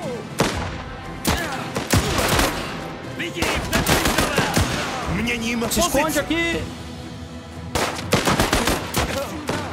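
Gunfire in the video game Last Train Home: rapid volleys and machine-gun bursts crackle loudly through a chaotic battle, pausing briefly midway before resuming, with someone shouting over the shots.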